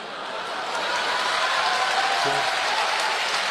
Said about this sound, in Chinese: 观众热烈鼓掌，啪啪啪！